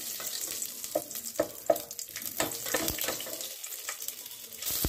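Whole spices and a bay leaf crackle and fry in about half a cup of hot oil for a biryani, a steady close sizzle broken by sharp pops and a few stirring clicks, with no voices.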